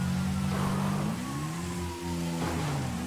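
A spawned motorcycle in GTA 5 revs its engine with a loud, steady mid-pitched drone that climbs in pitch, dips briefly, then rises again, heard close and alone.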